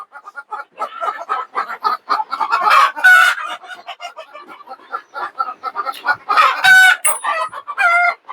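Laying hens of a local breed cluck busily and loudly nearby on a poultry farm, a dense, continuous chorus broken by a couple of sharper rising squawks.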